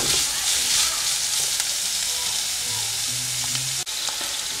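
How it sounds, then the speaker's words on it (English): Onions and spices sauté in a pan for Andhra-style prawn masala, giving a steady close sizzle with soft hissing and faint occasional stirring scrapes, a brief low hum partway through. "Saute this for again at least 1 to 2 minutes"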